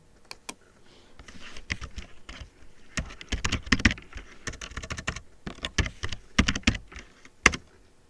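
Someone types on a computer keyboard, irregular bursts of sharp, close key clicks with short pauses between runs, alone with no talking.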